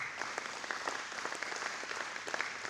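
Attendees at a men's breakfast event for a brotherhood alliance give board members a round of applause, quiet and somewhat distant, steady clapping with a few louder claps standing out.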